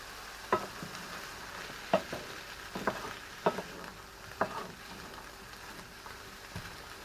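Half a carrot with courgette frying in a pan for a bolognese risotto, a soft sizzle broken by regular scraping stirs about once a second, close and moderately quiet, with no talking.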